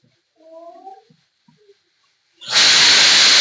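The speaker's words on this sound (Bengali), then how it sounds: "এখানে 2টো সিটি পড়ে গেল।" A pressure cooker of green pea ghugni on a home stove gives a few faint, wavering squeaky tones, then a sudden loud, sustained rush of hissing steam at close range.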